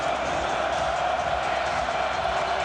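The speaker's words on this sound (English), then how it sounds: "the biggest cheer might be for this man" Football crowd at the 2010 Scottish Cup Final between Dundee United and Ross County, a steady, loud wash of cheering and roaring from a large stadium audience throughout, with commentary-like voices blended in.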